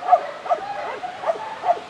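Dogs at an animal shelter give four short, soft yips or whimpers at fairly even intervals, close by in an otherwise quiet space.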